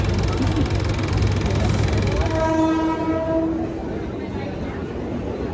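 A slow Mumbai local train bound for Dadar rumbles along steadily, loud and close, while a drawn-out horn sounds briefly partway through.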